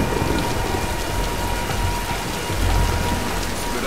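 Heavy rain and rolling thunder from a storm in the Tomb Raider: Definitive Edition video game, a loud, steady downpour with a deeper rumble swelling near the end and no voices.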